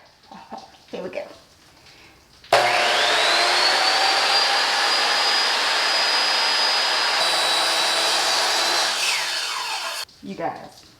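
A power saw cuts through wood for a DIY fall pumpkin decoration, a loud steady whine running about seven seconds with pitch shifts near the end, with brief talk before and after.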